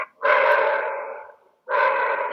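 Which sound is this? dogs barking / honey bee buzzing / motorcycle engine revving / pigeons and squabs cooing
dogs barking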